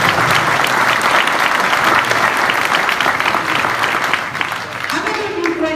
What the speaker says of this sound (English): So I want to give Chuck a round of applause.